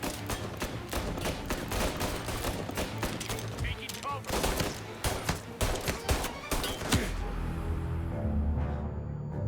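Rapid gunfire from Mafia Definitive Edition crackles loud and close in dense bursts of shots, with a few brief pauses before the volley fades near the end.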